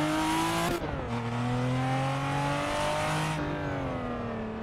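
A Supra drifts on the Highland Drifts track in Assetto Corsa on Xbox One. Its engine holds a loud, high-revving tone that dips briefly as a gear shifts, then climbs and settles again.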